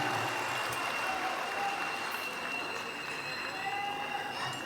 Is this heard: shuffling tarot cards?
no